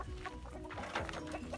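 Chickens cluck inside a coop as something new is brought in, several short overlapping clucks and murmurs at close range with no voices.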